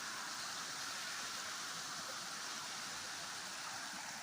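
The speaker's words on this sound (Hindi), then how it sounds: "ये देखिए शानदार झरना गिर रहा है नीचे" A waterfall roars in a dense, unbroken rush of water, loud and even throughout with no voices.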